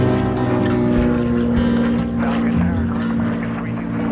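A propeller airplane drones loudly and steadily as it takes off from the runway at Falcon Field Airport in Mesa, Arizona, with a rich, even engine hum throughout.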